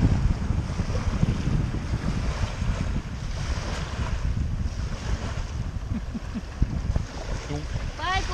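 Ocean surf and breaking waves roll continuously around someone swimming, mixed with heavy wind buffeting the microphone and faint voices underneath.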